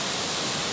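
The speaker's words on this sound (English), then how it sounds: "Water, Dwijiri waterfall." Dwijiri waterfall in Udalguri roars in a steady, dense wash of rushing water, loud and continuous through the short moment.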